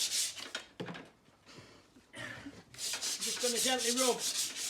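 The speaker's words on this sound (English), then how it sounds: "So I'm just going to gently rub." Sandpaper is rubbed along the edge of a wooden door reveal in a garden room, giving close, scratchy strokes in short bursts with brief pauses between them.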